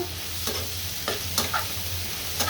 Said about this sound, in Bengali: ভাজা প্রায় হয়ে গিয়েছে, একদম ঝরঝরা ভাজি করে নিব আমি।